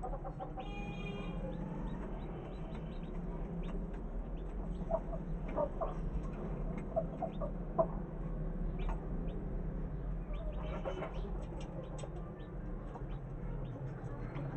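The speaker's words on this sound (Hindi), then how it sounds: "ये देखो कैसे बाहर आ रहे हैं चूज़े, कुछ प्लेट में खा रहे हैं" Soft clucks and faint peeping from a hen with a brood of newly hatched chicks, some pecking at a plate, scattered calls over a steady low background hum with a few sharper chirps.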